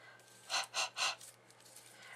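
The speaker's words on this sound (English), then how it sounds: "I'm going to blow some hot air on it" Three short, breathy puffs of air are blown onto a freshly stamped card in quick succession, close and soft, followed by quiet room tone.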